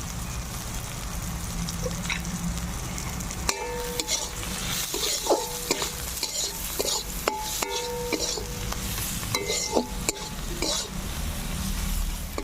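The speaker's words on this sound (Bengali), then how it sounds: "মশলা ভাজা হয়ে গেছে, তেল ছেড়ে দিয়েছি," Spices fry in oil in a pan for a fish curry, a constant sizzle under repeated metal scraping and clinks of a spoon stirring against the pan, loud and close throughout.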